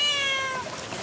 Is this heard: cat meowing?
yes